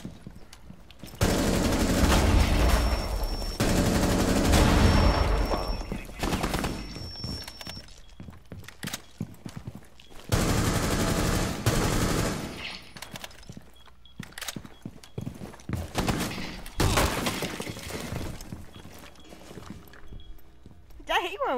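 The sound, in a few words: wallbang gunfire through walls in video game Rainbow Six Siege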